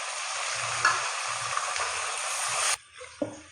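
Chopped tomatoes go into browned onions in a hot pan for a palak chana dal recipe, giving a loud steady sizzle with stirring scrapes, then the frying abruptly drops to quieter crackles.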